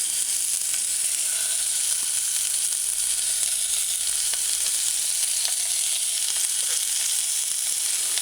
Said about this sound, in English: Add your meatballs to the eating oil.